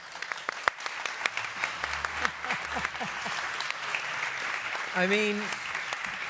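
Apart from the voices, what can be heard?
audience applause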